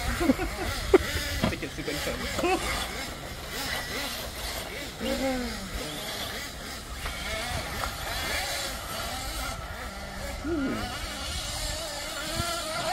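Nitro-engined RC buggies such as a Kyosho MP9, T2M RS3, NXT XR and Serpent SRX8 rev and accelerate around an outdoor track, their buzzing engines rising and falling continuously at moderate distance while people talk nearby.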